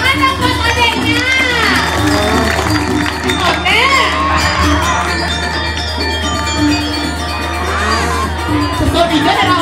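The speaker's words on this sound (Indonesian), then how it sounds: "Ada, tepuk tangan dong buat adeknya." A crowd of children and adults cheers and whoops for a child at a Balinese Calonarang temple performance, with loud, dense, overlapping shouts over steady background music and someone talking.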